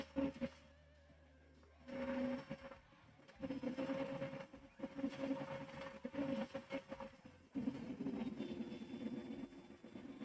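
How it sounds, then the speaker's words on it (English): A loud 3D printer runs during an all-metal gantry build, its steady mechanical drone and stepper whine rising and falling in bursts with fan noise throughout, close and continuous. "Apologize for the super loud printer if you guys can hear that."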